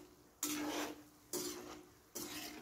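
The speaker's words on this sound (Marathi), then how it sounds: "तळून घेत आहे आपण शंकरपाळे तळायला घेतले" Shankarpali deep-frying in hot oil, heard as a loud close sizzle that surges in three bursts as the pieces are stirred or turned, easing off between each burst, with no voices.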